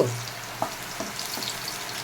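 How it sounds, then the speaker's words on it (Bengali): Jackfruit seeds sizzle in hot oil in a pan, a soft, steady frying crackle with a few light clinks of stirring. "তেলটা আমার খুব ভালো করে গরম হয়ে গেছে। আমি এই কাঁঠালের আটি কটা দিয়ে দিচ্ছি।"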